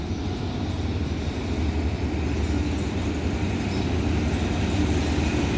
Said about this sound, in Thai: รถก็ค่อยๆเคลื่อนมาเพื่อตั้งริ้วขบวน